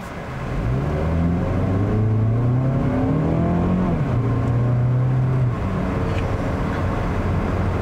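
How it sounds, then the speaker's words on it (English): A 2020 Mazda CX-30 engine revs hard in sport mode, a loud strained drone whose pitch climbs through several gears in repeated rising sweeps, close and alone. "It sounds like you're thrashing the engine."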